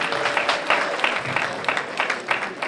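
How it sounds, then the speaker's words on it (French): A church congregation applauds the pastor at a celebration, a loud, close burst of many people clapping with an uneven, pulsing rhythm that carries on throughout. "Il faut l'applaudir, je vous en prie"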